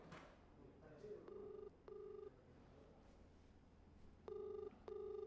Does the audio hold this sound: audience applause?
no